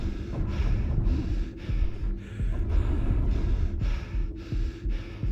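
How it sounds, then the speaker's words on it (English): Heavy, labored breathing from a low-health character in the Wii shooter The Conduit, a regular rhythm of deep rasping breaths, about nine cycles, close and loud over a low muffled game background. "your character's hearing would be muffled, your breathing got heavier"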